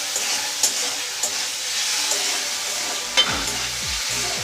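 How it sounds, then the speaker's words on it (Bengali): Potatoes and carrots with a little salt sizzle steadily in a hot wok, a dense continuous hiss with a few faint clinks and a brief low stirring scrape near the end. "এগুলোকে ভালো করে ভেজে নিব।"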